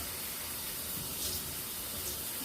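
Water runs steadily from a tap or shower while a puppy is bathed, a continuous close hiss with no talk over it.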